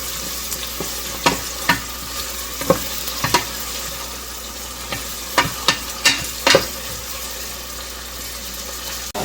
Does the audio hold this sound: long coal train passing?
no